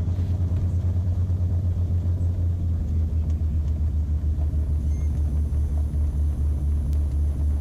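A private Piper Cherokee plane on a runway, heard from inside as a steady loud low engine rumble and drone that holds throughout, with faint radio voices.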